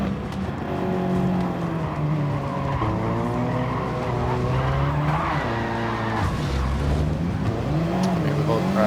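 Engine roar and screeching tires from a car skidding toward a crash during a Gran Turismo 7 Manufacturers Cup race, a loud, continuous sliding squeal over revving, with faint talk beneath.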